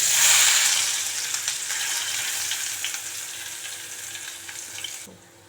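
Onions fry in oil in a kadai, a steady close sizzle with light stirring that fades slightly toward the end, with no talk.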